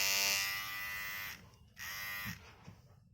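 A NOVA rechargeable electric trimmer with a 600 mAh battery buzzes in a loud, high steady hum, cuts off, starts again, then stops, close up with no talking.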